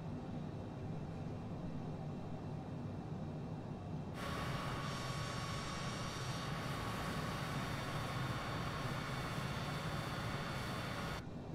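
An aircraft in a flight simulator game drones with a steady engine rumble during a low flyover, and a brighter whining tone joins midway and holds to the end.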